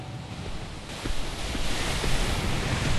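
Waves and water washing around a small boat at sea in an Xbox Live indie game, a steady broad surf rush with gusty wind-like swells that build slightly louder toward the end.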